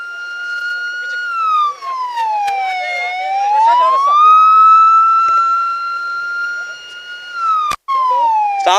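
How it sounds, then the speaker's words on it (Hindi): Ambulance siren wailing loud and near on a congested motorway, its rising and falling tone sweeping steadily with brief dropouts, continuous throughout over faint traffic background. "ये एम्बुलेंस भी जी यहाँ फंसी हुई है"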